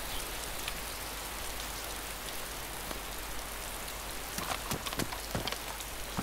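Steady rain falls in DayZ, a continuous hiss of drops with a few sharper pattering hits near the end, even and moderately loud throughout with no talk.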